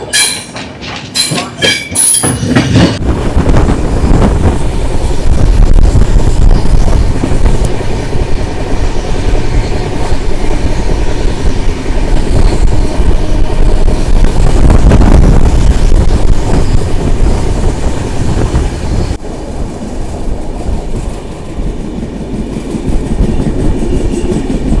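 A train pulls out of Madgaon Junction bound for Belagavi, a loud continuous roar of wheels and carriages with squealing and rhythmic clatter, after a brief burst of clanking at the start; no talk.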